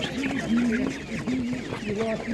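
A chicken clucks repeatedly close by in short rhythmic bursts, with faint background noise.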